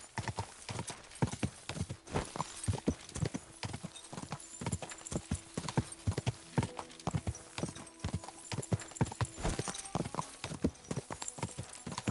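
Horse hooves in the video game Kingdom Come: Deliverance 2, a steady clip-clop of a horse moving at a walking pace, close and fairly quiet, with a faint whinny amid the rhythmic footfalls.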